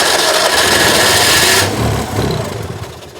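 The engine of a 2CV-based Falcon S kit car, abandoned for 23 years, runs loud and rough up close, its noisy roar easing off partway through into a lower, uneven chug.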